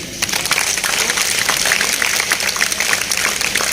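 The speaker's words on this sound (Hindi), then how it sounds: "आशीर्वाद वाली तालियां तो दीजिए।" A large seated crowd at a Hindi comedy poetry gathering in a market hall claps steadily, a dense continuous wash of applause holding at even loudness throughout with no voices over it.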